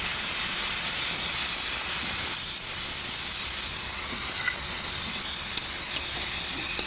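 Vegetables fry in a pan with a steady, loud sizzling hiss that continues unbroken, close up and with no talk.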